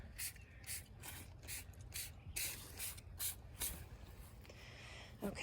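Trigger sprayer squirting a stream of liquid onto squash plants, a series of short, close hissing bursts in an uneven rhythm over a low background rumble.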